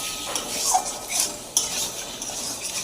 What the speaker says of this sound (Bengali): আমি এই যে ডিমের ঝোল করার জন্য ভালো করে মশলাটাকে কষিয়ে নিচ্ছি আলু দিয়ে ভালো করে